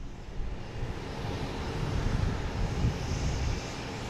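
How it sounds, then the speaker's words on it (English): A JetBlue Airbus A220 airliner at Boston Logan gives a steady, broad engine roar that swells slightly midway, heard at moderate distance with no talk. "Here's a JetBlue heading to Philly. Philly special. A220 flight 2459."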